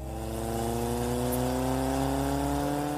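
A motorcycle engine revs and accelerates with a steadily rising whine. It sounds smooth and continuous, heard alone as a sound effect in an audio drama.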